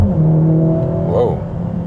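A Mercedes GLA 45 S AMG driving uphill with a steady, droning engine and exhaust note heard from inside, plus a brief rising blubber from the exhaust partway through.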